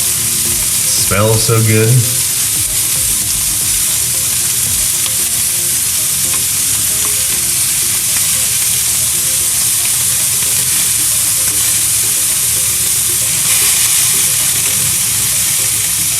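Meat sizzles and fries steadily in a pan for Chapaguri ramen, a loud continuous crackle lasting throughout, with a brief voice speaking near the start and occasional stirring scrapes.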